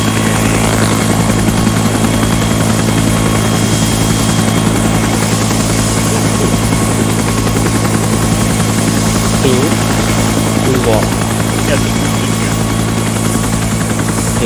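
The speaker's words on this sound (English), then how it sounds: "This is a medical helicopter." A medical helicopter engine in a video game drones loud and constant throughout, a steady rotor thrum with a deep, pulsing vibration that never lets up.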